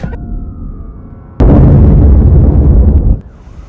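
A sudden loud explosion in a scene from the Daredevil series, with a sharp onset and a roaring blast that holds for under two seconds before cutting back to a quiet low hum, without talk.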